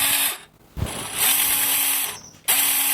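A modified JJRC RC drift jeep's small electric motor and gears whir loudly in bursts, spinning up, cutting out briefly and revving again nearby, with no talking.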